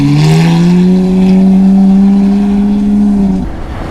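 A Lamborghini Aventador S supercar revs at a street car meet, a loud, sustained engine tone that holds steady, then cuts off sharply near the end.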